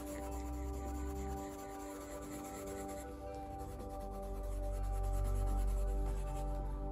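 A pencil rubs across paper while a badger illustration is sketched, making a soft continuous scratching at close range over a low steady hum that swells toward the end.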